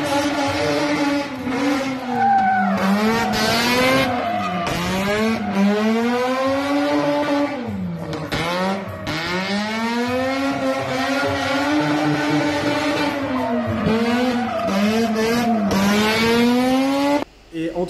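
A car engine revs up and down repeatedly, loud and close, with rising and falling pitch as gears shift throughout.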